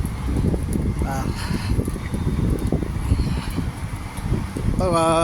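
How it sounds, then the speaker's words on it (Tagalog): Wind buffets the microphone in a steady low rumble throughout, with a voice speaking faintly beneath it. "mahangin na naman sarap ng hangin"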